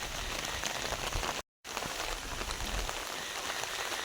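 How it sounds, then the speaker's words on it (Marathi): Heavy monsoon rain pours steadily in rural Konkan, a dense continuous hiss of drops hitting surfaces, close and loud with no voices, broken only by a brief dropout midway. "पाऊस लय लागलो लागलो ना"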